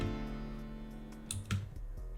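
Jazzy piano chord from an XV5080 piano preset in FL Studio, sustained tones ringing steadily with a slight swell of a second voicing midway, moderately quiet and alone.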